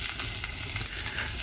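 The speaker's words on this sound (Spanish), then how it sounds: "aquí ya los puse a sofreír." Pacayas (tepejilotes) sizzle as they fry in a pan, a close, steady crackling hiss with faint stirring, continuous and without any voices.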